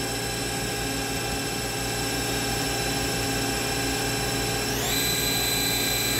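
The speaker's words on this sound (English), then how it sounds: "We're at 2000 RPM on the live milling." A Doosan Puma 3100LY lathe live milling at 2000 RPM gives a continuous loud, steady machine whine with several sustained tones, rising in pitch near the end.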